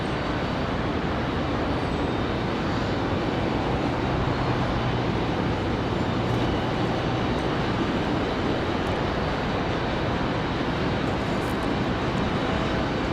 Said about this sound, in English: KC-130 looks like it might be headed out to Cherry Point.